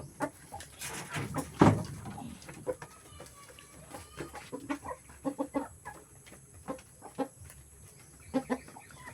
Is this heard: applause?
no